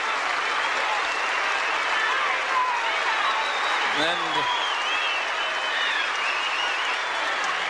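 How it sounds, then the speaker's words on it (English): A stadium crowd at the 1979 Australian Open tennis final applauds the tournament winner with sustained, dense clapping and cheering. A commentator speaks over the applause. "the whole stadium rising to its feet to applaud the tournament's #1 seed, who has repeated his triumph of last year"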